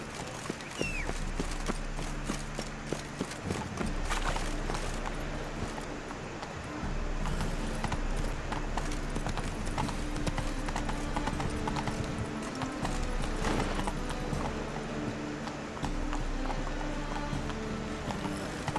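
Rhythmic hooves of a galloping horse drum steadily through nearly twenty seconds of Witcher 3 gameplay, close and continuous over a game soundscape.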